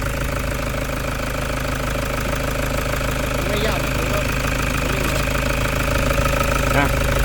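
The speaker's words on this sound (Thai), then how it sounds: "ตอนนี้เครื่องยนต์ติดแล้วนะ" A Toyota Fortuner engine with fault code P0093 runs steadily close by, a continuous mechanical rumble with a faint knocking texture and slight swells, with no clear revving.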